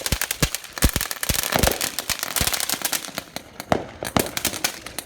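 Fireworks bursting outdoors on a dark Fourth of July night, a dense run of sharp cracks and pops in quick irregular succession, loud and fairly close, with no talking.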